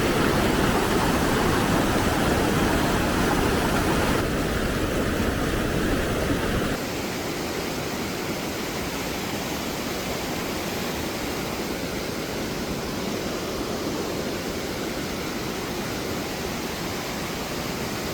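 River water rushes steadily beside a walking trail, a dense broadband roar that runs loud for the first several seconds, then drops to a softer, even flow with no voices.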